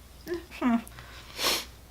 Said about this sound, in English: I sniffle and cough and do everything a lot.